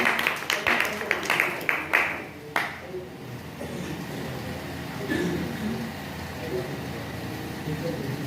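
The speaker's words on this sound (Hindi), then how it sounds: "तो केसर भाई के लिए जोरदार तालियां एक बार।" Brief burst of applause for a speaker at the closing of a traditional herbal medicine training camp, several sharp claps over the first few seconds that quickly die away into quiet room noise with faint background hum.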